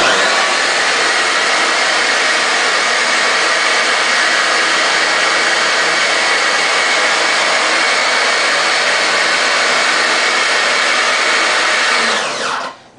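Pressure washer on its lowest setting rinsing a screen, a loud steady broadband spray roar that holds unbroken for about twelve seconds, then cuts off abruptly at the end.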